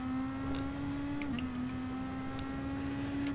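A steady engine drone from a racing video game car, holding an even pitch throughout with a slight dip midway, loud and continuous with no talking over it.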